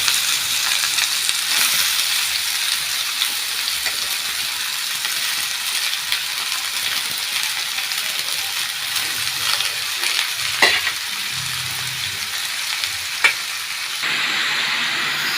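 Radish, carrot and bean vegetable mix frying in oil and a piece of butter in a pan, a loud continuous sizzle with occasional utensil scrapes and clinks, steady throughout with no talking.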